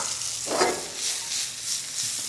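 Asparagus and onion sizzle steadily in brown butter in a hot pan, a continuous hiss with a brief louder spatter near the start and no voices.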